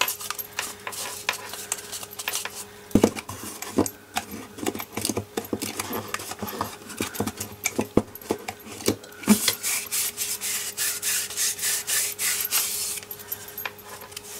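Music sheet paper is pressed and rubbed onto a glue stick holder in a long run of close, scratchy rubbing strokes, with occasional sharp taps and clicks and no talking.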